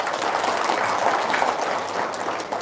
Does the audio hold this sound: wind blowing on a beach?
no